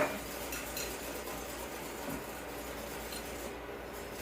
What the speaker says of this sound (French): Je vais aller bien fouetter jusqu'à blanchir ma préparation